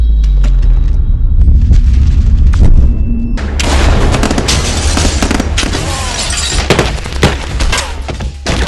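Gunfire and explosions crash through a film shootout, loud booms and shattering bursts arriving in rapid succession, a rumbling low blast at the start giving way to dense, chaotic volleys of shots and breaking debris.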